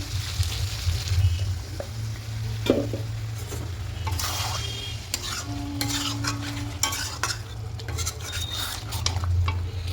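Chicken masala being stirred and sautéed in a pan, with steady sizzling under a low rumble, joined by repeated scraping and clinking of a spoon against the pan throughout.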